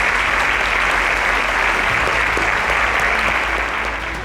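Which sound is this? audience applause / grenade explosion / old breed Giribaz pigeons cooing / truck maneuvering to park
audience applause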